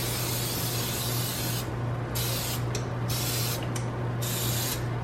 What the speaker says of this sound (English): now I'm just going to grease the dish that this will bake in